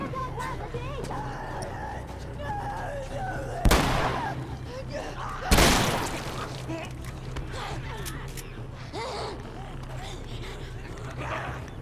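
Gunfire in The Last of Us, two sharp loud bursts a couple of seconds apart over a busy game soundscape, with voices talking throughout.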